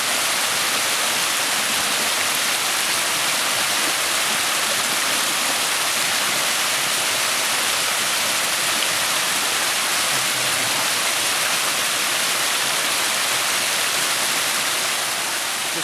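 Flowing water of a stream beside a hiking trail in Nerpio, a dense, steady rushing wash, close and loud and unbroken for the whole stretch.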